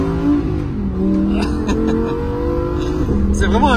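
A Lamborghini Huracan Evo engine revving and pulling up through the gears, its loud droning tone climbing in pitch, with a brief dip and then a renewed rise, while people talk over it inside the car.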